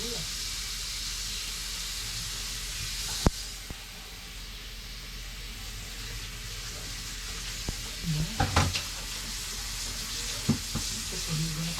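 Onion and liver fry in a pan with a steady close sizzle and hiss, broken by a few clinks and stirring scrapes, while someone talks quietly over it.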